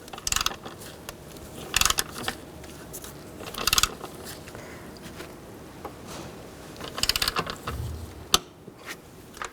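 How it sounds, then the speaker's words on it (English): A torque wrench clicks and ratchets in short clustered bursts while tightening ignition coil bolts on a 2010-16 Buick LaCrosse, with quiet pauses of handling noise between. "we're going to torque these bolts for the first pass to 18 foot-pounds"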